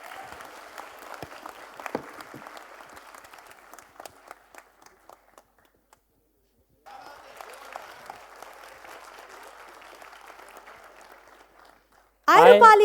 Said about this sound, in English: I would like everyone to give a huge round of applause for our speakers today